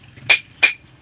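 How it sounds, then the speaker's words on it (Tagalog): Two sharp hammer strikes on a motorcycle front shock about a third of a second apart, bright and ringing, close by with quiet in between. "Pinupukpok na naman ni Datuim."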